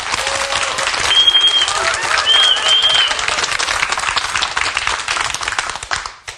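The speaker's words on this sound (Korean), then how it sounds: "박수로 모시겠습니다." Church congregation at Gimpo Jeonwon Church applauding to welcome a testimony speaker, a dense burst of clapping that fades out after about six seconds, with a little talk underneath.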